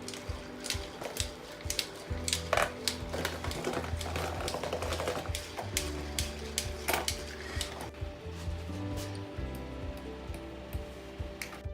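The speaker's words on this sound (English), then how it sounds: "Now let's whisk it." Whisk beating chicken tikka marinade of chili powder, paprika and seasoning in a bowl, a continuous busy clatter of metal tapping the bowl with irregular sharper clicks, close and steady throughout.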